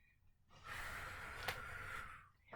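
A swimmer takes a big breath while turning to the side during a counted freestyle drill: one close, drawn-out gasping inhale lasting about two seconds, with no voices.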